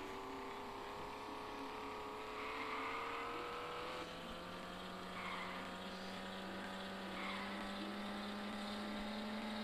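A car engine in a C180 driving simulator video game drones steadily with a rising then held pitch, as the car accelerates through gears under faint game background sound.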